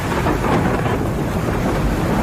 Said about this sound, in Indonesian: Sesampainya kodok di sungai, hujan pun turun dengan deras.